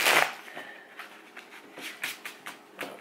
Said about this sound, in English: I already shuffled the deck. I'm gonna shuffle it one more time so that you guys can see